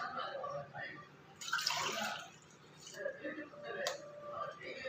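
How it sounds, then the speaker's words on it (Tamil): Water is poured into gram flour for boondi batter, giving faint splashing and trickling in uneven bursts, with a voice softly present underneath. "இதுக்கு நம்ம 3 டம்ளர் தண்ணி விட்டுக்கலாம்"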